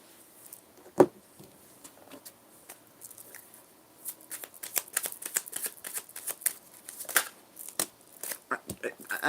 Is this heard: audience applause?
no